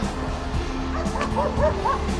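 A small dog yips and barks a few times in quick succession, close by, over a steady background hum.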